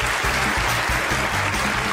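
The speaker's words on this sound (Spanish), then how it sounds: "quiero agradecer la presencia de nuestro jurado calificador para que envíe un muy fuerte aplauso en esta noche" An audience at a televised show gives the jury a strong round of applause, loud, dense clapping with a low rhythmic pulse beneath it, steady throughout.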